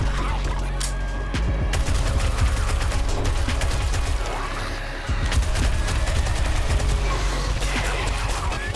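Dense, loud gunfire from the survival game 7 Days to Die, with rapid bursts of shots packed close together over a low rumbling background and barely a pause.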